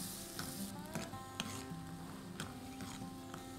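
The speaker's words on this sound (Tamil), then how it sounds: "ஸோ நல்லா வதங்கணும் வெங்காயம்" Steady sizzling of finely chopped onions frying in a pan, with occasional scraping from stirring, continuous and close without any talking.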